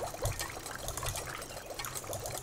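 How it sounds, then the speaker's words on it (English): Water running from a turned-on tap, fully opened, in the indie horror game A Wolf In Autumn: a steady splashing, trickling stream, close and continuous without talk. "Yeah, well, the water's on. The water is well and truly fucking on."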